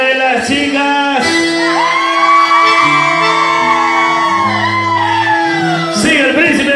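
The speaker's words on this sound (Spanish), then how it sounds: "El grito de las chicas." Girls in the crowd at a folklore music show scream loudly, with high sustained shrieks rising and falling together almost without pause.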